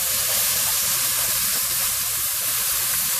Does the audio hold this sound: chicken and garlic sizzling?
yes